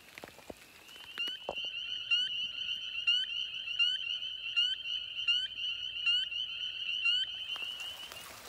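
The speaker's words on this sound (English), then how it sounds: "And when you hear the frogs singing, those are the boy frogs." Frogs call at night in a continuous high trilling chorus, with a regular pulsing rhythm that starts after a few faint knocks and carries on steadily for several seconds before stopping.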